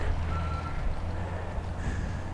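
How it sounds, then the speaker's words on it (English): Reversing beeps from trucks at nighttime roadworks, a steady high tone sounding twice at a distance over a constant low rumble of heavy engines and traffic. "They're doing work back here. I can hear the trucks."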